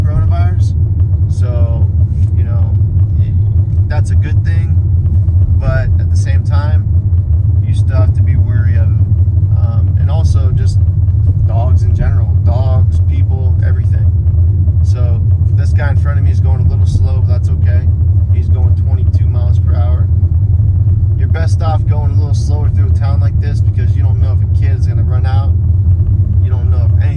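A car drives along quiet back roads, its low engine rumble and road noise steady throughout while someone talks over it at length.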